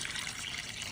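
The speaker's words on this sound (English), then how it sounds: "Adding a can of water." Water poured from a can into a pot of congee, a steady bright splashing trickle that runs continuously and close by, with no talking.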